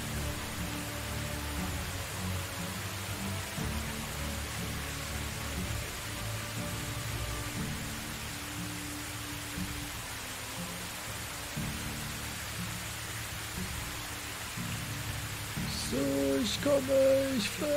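Steady rain falling in the medieval village game Medieval Dynasty, a broad hiss filling the whole stretch with faint game music tones underneath, growing slightly louder near the end.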